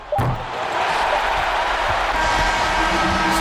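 Home crowd in an NBA 2K23 basketball game cheers loudly and steadily in a dense arena roar, with a sharp thump near the start and faint court sounds beneath.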